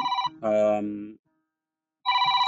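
A phone rings with an incoming call, a bright electronic melodic ringtone playing in two bursts separated by a brief silence, close and clear. A voice speaks between the rings.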